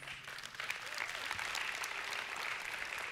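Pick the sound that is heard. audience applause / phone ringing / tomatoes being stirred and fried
audience applause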